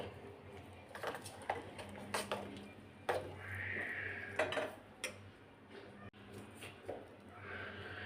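Wheat flour pesarattu batter being mixed in a bowl, with irregular clinks and scrapes of a utensil against the bowl, faint and close, with quiet pauses between strokes.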